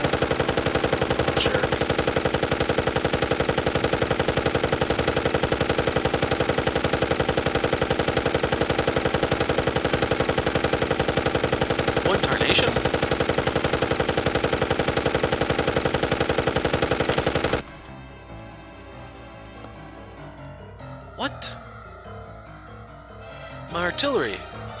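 Artillery barrage in a Western video game fort siege, a dense sustained roar of rapid gunfire and blasts that cuts off abruptly, leaving a few faint scattered thuds and voices afterward.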